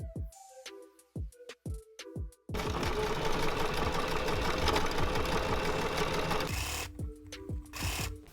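Sewing machine stitching a blouse sleeve, starting with a few short stop-start bursts, then a steady continuous run of fast needle clatter before slowing into brief stuttering stitches at the end, close and alone.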